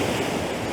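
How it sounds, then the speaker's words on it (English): Sea waves crashing on the Causeway Coast of Ireland, a loud, dense roar of surf and wind close to the microphone, steady across a brief moment with no voices. "The waves are crashing in."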